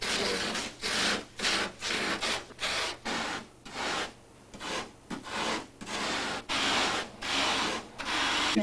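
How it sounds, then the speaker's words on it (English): Light polyurethane foam being carved into rough canyon cliff shapes for a film miniature, loud rhythmic rasping strokes in quick repeated bursts with short pauses between, close and without speech. "Greg has model maker Mike Hosh carve the rough structures of the canyon cliffs out of 8-foot pieces of foam."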